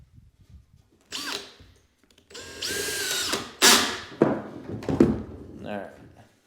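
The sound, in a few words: cordless drill driving screws into a door frame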